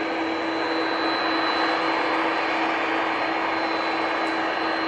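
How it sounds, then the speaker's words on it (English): An Airbus A319 at Manchester Airport gives a steady broadband engine roar with a sustained whining tone. It is loud and even throughout, with no talk. "A319 coming on next."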